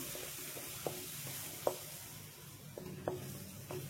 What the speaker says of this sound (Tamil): தக்காளியோடைய பச்சை ஸ்மெல் போகிற வரைக்கும் நம்ம எண்ணெயில் வந்து வதக்கிக்கலாம்